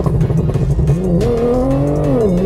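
A highly modified MK8 Volkswagen GTI with a 1900 TVS supercharger and 034 camshafts accelerates hard, its engine note climbing through gears, loud and close from inside the car.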